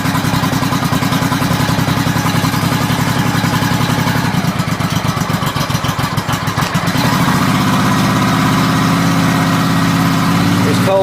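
A 1986 Honda Shadow 700 motorcycle engine idles close by, loud and steady, with an even low throb and mechanical clatter throughout.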